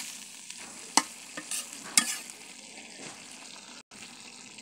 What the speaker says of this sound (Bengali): এখন আমি একটু নেড়ে দিচ্ছি।